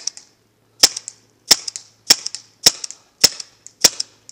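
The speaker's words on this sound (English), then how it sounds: "shooting the Tippmann TiPX paintball pistol" Six sharp shots from a Tippmann TiPX paintball pistol fire at an even pace about half a second apart, each a crisp snap with a short hissing tail, close and clear with no talking.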